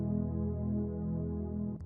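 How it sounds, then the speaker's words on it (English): Synth String preset from the strings category of the Purity synth plugin: a sustained, full string-pad chord holding steadily for under two seconds, playing alone before cutting off abruptly. "this sound is called synth string under the strings category inside of Purity"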